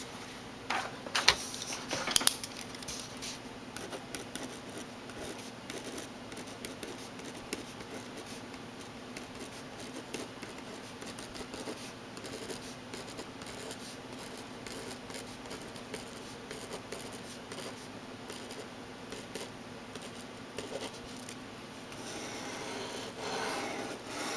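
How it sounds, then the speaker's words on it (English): Pilot V-Ball RT rollerball pen writing on paper, a faint, close scratchy rasp in soft continuous strokes with brief pauses, heard alone. "So let's get started writing."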